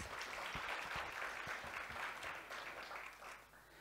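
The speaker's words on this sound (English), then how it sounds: "let's also give her a big round of applause" An audience at a mid-year budget speech gives a round of applause, dense overlapping claps at moderate distance that hold steady, then thin out near the end.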